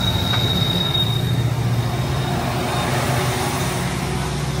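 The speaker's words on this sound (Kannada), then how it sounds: "ಆ್ಯಕ್ಚುಲಿ ಈ ಕಡೆ ಟ್ರೈನ್ ಹೋಗ್ತಿದೆಯಲ್ಲ" A train rumbles steadily past nearby at the Yedakumari railway tunnel viewpoint near Sakleshpura in the Western Ghats, loud and continuous, with rail clatter and a thin high squeal from the wheels.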